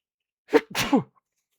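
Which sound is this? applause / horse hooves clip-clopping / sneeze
sneeze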